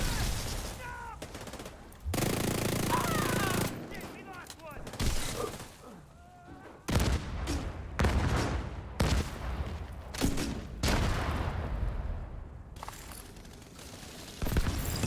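Gunfire in the video game The Division: rapid automatic bursts and sustained fusillades alternate with brief pauses, loud and dense, with mechanical reload clicks between volleys.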